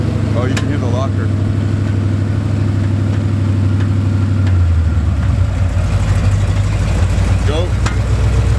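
A Jeep with a newly fitted differential locker and four-inch lift crawls in 4 low, its engine idling and grinding steadily while the drivetrain churns loudly and continuously, with voices talking over it.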